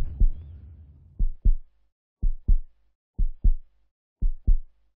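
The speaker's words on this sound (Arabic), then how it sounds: "حاولت أن تعرف المسافة بحساب نبضات قلبها" Slow, steady heartbeat, four paired low thumps evenly spaced about a second apart, close and clear against silence.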